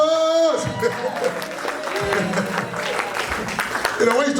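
A church congregation claps along during a prayer service, a steady patter of many hands with scattered voices and talk over it, close and fairly loud throughout.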